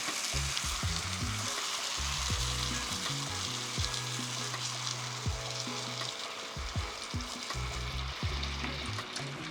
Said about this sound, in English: We'll let that sizzle there for a while